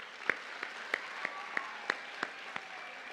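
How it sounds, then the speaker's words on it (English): Light applause from a small audience for teachers at a school academic awards ceremony, heard as about eight sharp, evenly spaced claps rather than a dense ovation, over a quiet room. "Let's give them a round of applause."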